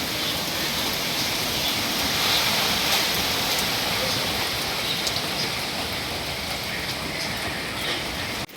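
Heavy rain from Cyclone Remal pours down in a dense, steady roar close by, constant and unbroken for the whole stretch with no voices.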